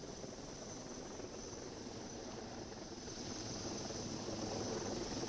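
An army helicopter hovers during a flood rescue in Gujarat, its rotor and engine making a steady broadband roar that grows slightly louder toward the end, continuous and unbroken with no voices.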